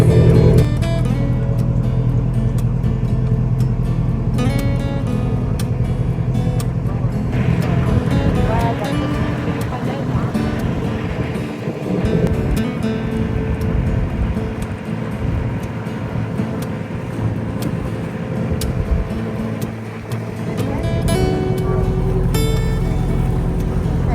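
A ferry engine drones steadily throughout a short crossing near San Sebastián, with water and wind noise around it and occasional voices nearby.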